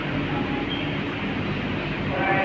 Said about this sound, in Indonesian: Persiapan LRT Jabodebek berangkat dari stasiun Duku Atas menuju ke Harjamukti Cibubur